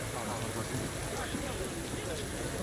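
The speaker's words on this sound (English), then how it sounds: "We've got acid rain again." Acid rain in Cyberpunk 2077 falls as a dense, steady hiss of rainfall filling the scene without letup, with a voice faintly present beneath it.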